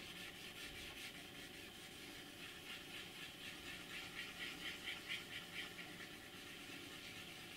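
Faint, steady rubbing and scraping as paint is worn off a Royal Train model, a continuous hissy friction sound with slightly rhythmic strokes, close but quiet, with no talking.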